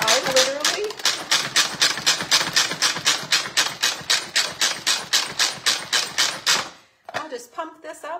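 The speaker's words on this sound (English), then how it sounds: "I just put it in chunks and put it in the manual food processor" Chunks of canned Spam are chopped in a hand-pumped manual food processor, giving a rapid, steady run of loud rhythmic clacking strokes close by for several seconds before it stops, followed by a few lighter rattles.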